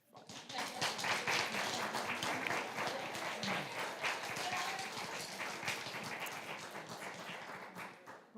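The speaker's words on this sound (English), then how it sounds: "If you'd like to give yourselves a round of applause, that'd be fine." Audience applause at a Board of Education meeting, a steady crowd of clapping hands filling the room for about eight seconds with murmured voices mixed in beneath it.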